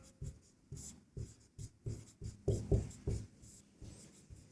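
Pen strokes on paper or a board during a Class 10 maths lesson on triangles: a run of short, regular scratching strokes close by, with a few firmer ones, and no speech over them.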